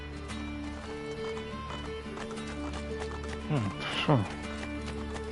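Horse hooves in Assassin's Creed 2 gameplay clopping along steadily under the game soundtrack, with a louder whinny-like burst near the end and people talking over it.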